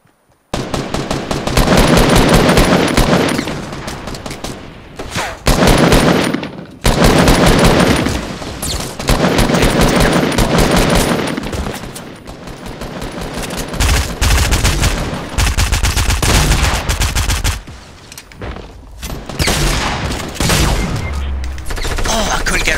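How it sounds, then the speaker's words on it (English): Sustained bursts of rapid automatic gunfire in Fortnite, loud and dense, with short pauses between volleys and some quieter stretches toward the end. "Gunfire from the left."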